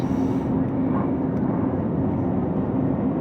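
An airplane taking off makes a loud, steady engine roar with a low drone that holds unbroken throughout, with no distinct voices over it.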